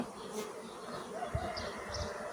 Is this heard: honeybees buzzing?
yes